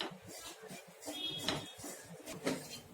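Dried dates (chhuhare) roasted in a spoonful of ghee in a kadhai over a medium flame, with repeated scraping and metallic clinks of a spoon against the pan, close up and without speech.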